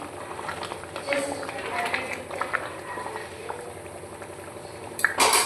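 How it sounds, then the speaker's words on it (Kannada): Chicken biryani liquid boils in a pot, a steady bubbling hiss lasting several seconds at moderate loudness, then ending in a brief louder clatter. "ನೋಡಿ ಇವಾಗ ಚೆನ್ನಾಗಿ ಕುದಿ ಬಂದಿದೆ."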